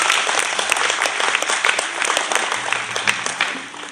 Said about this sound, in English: Please give everyone yourselves a round of applause.